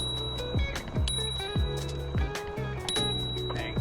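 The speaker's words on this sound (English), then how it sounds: "Okay, there's a bell." The handlebar bell of an Engwe L20 2.0 e-bike is rung about half a dozen times in a quick, steady series of bright dings during an outdoor ride, over constant wind and road noise.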